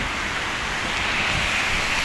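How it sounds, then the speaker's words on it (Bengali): Heavy rain falls steadily, a dense continuous hiss with no breaks, fairly loud and close, with no voices over it. "কারণ প্রচুর বৃষ্টি"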